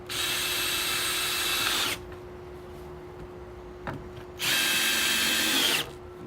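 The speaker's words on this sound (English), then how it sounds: "So I'm just going to take a couple of deck screws and screw this board right down on top of it." A power drill drives deck screws into a wooden board for a chicken coop, with two loud whirring bursts of about two seconds each separated by a quieter pause with a small knock.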